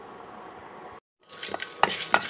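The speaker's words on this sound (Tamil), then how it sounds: "தனியா, சிகப்பு மிளகாய், கடலைப்பருப்பு இதையெல்லாம் ஒரு நிமிஷம் நல்லா வறுத்துக்கலாங்க." Coriander seeds, red chilies and chana dal are stirred and dry roasted in a pan, giving a soft rattling sizzle with a few light scraping clinks, close and fairly quiet after a brief gap.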